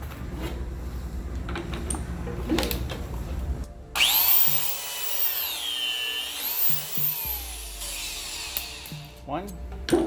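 A repaired Makita 6922NB electric shear wrench runs on bolts, starting partway through with a loud, whining motor burst whose pitch swells and falls repeatedly. Someone talks briefly before it starts.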